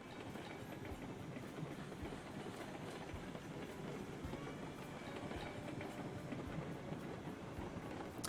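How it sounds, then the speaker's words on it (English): Train rolling on rails in the Railroads Online video game on a mountain pass, a steady rumbling run with faint clickety-clack from the wheels, continuous and fairly quiet throughout, with no voices. "She can't stop this train."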